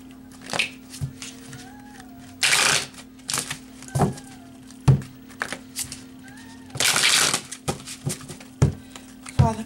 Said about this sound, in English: let's get one card from the psychic tarot for each spread.